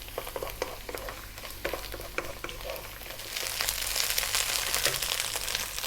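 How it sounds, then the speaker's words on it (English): Vegetables frying in a pan above medium heat for pasta make a continuous crackling sizzle with occasional stirring taps, growing noticeably louder and brighter partway through. "we're going to fry this around for 4 minutes on this above medium heat"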